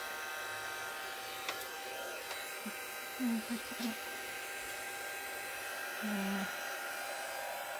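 A hair dryer runs steadily to dry distress ink on paper in a crafting session, a continuous broadband whir held close throughout, with brief bits of talk and a short spoken reply over it.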